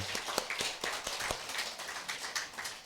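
Church congregation clapping together to celebrate a birthday during a Sunday service, a soft, fairly distant patter of many hands with an uneven, loosely rhythmic beat.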